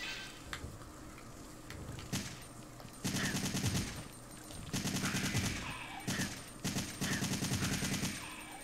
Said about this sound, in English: I'm not really bothered about wasting this assault rifle